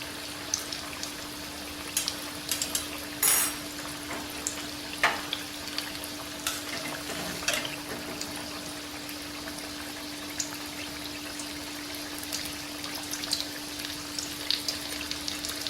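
Batter-coated green chillies for mirchi bajji frying in hot oil, a steady bubbling sizzle with scattered crackles and spatter pops throughout, near and unaccompanied by talk.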